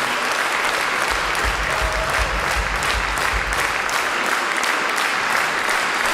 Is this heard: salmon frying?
no